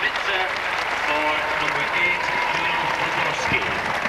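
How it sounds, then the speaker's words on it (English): A football crowd at a 1996 pre-Euro friendly between Bamber Bridge and the Czech Republic applauds warmly for a substitution, a steady wash of clapping heard across the ground, with a public-address voice speaking over it. "Warm Bamber Bridge applause for Poborski."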